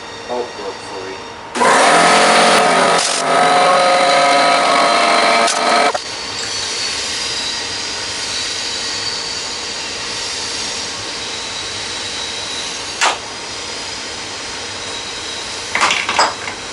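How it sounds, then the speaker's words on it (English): An air compressor kicks on for an impact job on a bolt of an MTD Bolens 38-inch riding mower, a loud hissing burst followed by a steady running hum with occasional sharp clanks, while a voice talks over it. "We're going to cut on our air compressor so I can get this bolt broke for you."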